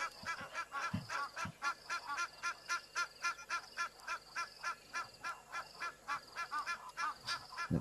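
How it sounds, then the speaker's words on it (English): Egyptian geese honk repeatedly in a rhythmic, raspy series of calls, loud and fairly close, with a few low thumps and faint background sounds and no speech. "The Egyptian geese would shut up for 2 seconds."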